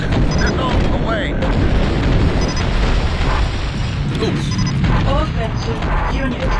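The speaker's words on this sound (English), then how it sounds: "Missile away." Missile launch and explosion in the vehicle combat game Battlezone 2, a constant loud booming roar of blasts and rumbling detonations with short electronic chirps and a voice speaking over it.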